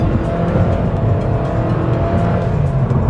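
A 1.8-litre Toyota Corolla rental car with a CVT, driven hard, its engine droning loud and steady from inside the cabin with constant road and wind roar and no pauses.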